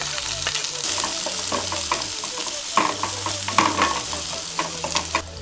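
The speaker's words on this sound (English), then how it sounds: "Now heat the pan and put little bit oil, add mustard seed, garlic, green chili," Mustard seeds, garlic, green chili and onion fry in hot oil in a pan for stir-fried kankung, a loud continuous sizzle with stirring scrapes and small crackles throughout.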